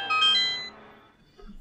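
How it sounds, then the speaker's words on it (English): A mobile phone alert tone chimes loudly up close, a bright melodic sequence that fades out over about a second, followed by faint rustling. "Somebody forgot to silence his phone."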